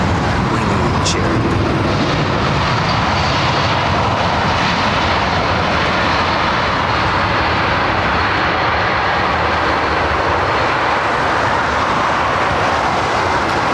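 A large passenger jet landing on runway 27R at London Heathrow, a loud, continuous broadband engine roar that fills the whole stretch at close range without letting up.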